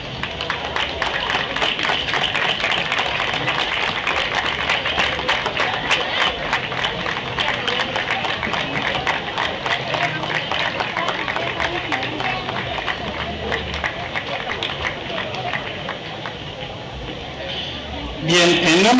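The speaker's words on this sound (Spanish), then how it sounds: "Le damos un fuerte aplauso." Steady applause and crowd noise from an audience at the closing ceremony of a cultural exchange between Tecámac and Papantla, sustained and dense throughout with a sharp burst near the end.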